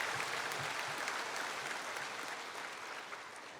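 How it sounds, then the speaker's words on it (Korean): A church congregation applauds to welcome a member coming forward to give testimony, many hands clapping in a dense, sustained wave that gradually fades toward the end. "우리 강신조 성도님 나올 때 우리 박수로 환영하겠습니다"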